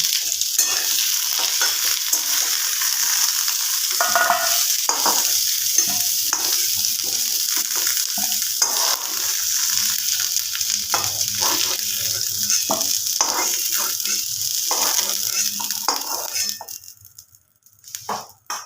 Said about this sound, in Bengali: একটু লাল করে ভেজে নেব তো বন্ধুরা